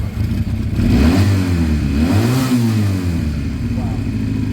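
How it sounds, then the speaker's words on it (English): An engine on a new project car revs up and falls back in a loud, close, rising and falling roar, with mechanical clatter underneath and some talking over it. "The engine sounds great."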